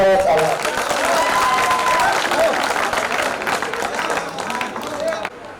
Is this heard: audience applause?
yes